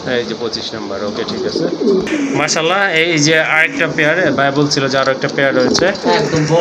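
Fancy and racer pigeons coo repeatedly from rows of cages close by, soft throaty calls layered under someone talking almost continuously.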